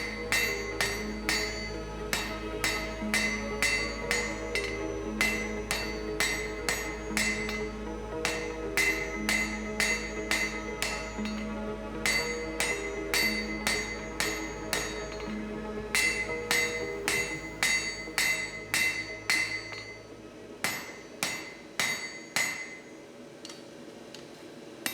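Rapid, regular ringing hammer blows forging steel tongs over an anvil horn, close and loud, continuing in bursts with brief pauses, the blows slowing and spacing out toward the end.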